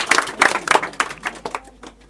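Students in a classroom clap loudly and vigorously, a dense run of group claps that starts strong and then thins into scattered, fading claps after about a second and a half.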